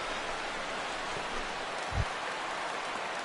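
Steady rain hiss falls over a baseball stadium in MLB The Show 16 during a Cubs at Cardinals game, a constant broadband wash with one faint low thump and no speech.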